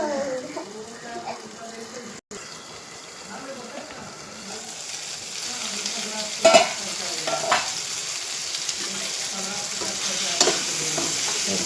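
Raw mango pickle ingredients sautéing in a pan until crisp, a steady frying hiss with occasional clinks and scrapes of stirring; a voice talks softly beneath the sizzle.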